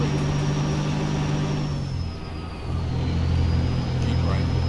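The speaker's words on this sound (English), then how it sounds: "You can hear the engine." Simulated truck engine in American Truck Simulator, pulling a Doepker scissorneck trailer: a steady low diesel drone that dips briefly mid-clip, then returns louder, with a thin high whine running throughout.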